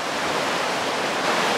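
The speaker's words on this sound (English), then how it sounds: "Just look at the force coming into it, and as you can see, both sides of the lock doors are open now to just let the water through" Floodwater roars through a canal lock with both lock gates open on a flooded narrowboat waterway, a loud, steady broadband rush with no breaks, close and alone.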